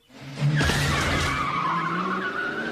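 A cartoon car from The Simpsons peels out and accelerates, its tires screeching in a loud sustained skid over a revving motor, close and alone without speech.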